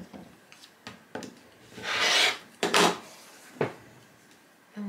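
Quilt fabric strips being trimmed on a cutting mat, heard as a few soft rubbing strokes and short scrapes up close, with one longer, louder slicing sweep in the middle.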